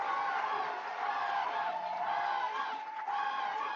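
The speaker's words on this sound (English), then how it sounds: "The crowd is just going nuts." Dense crowd of fans roaring and cheering at a 4A Washington state high school lacrosse championship, a steady loud wall of voices and whoops that holds without a break, with scattered shouts rising out of it.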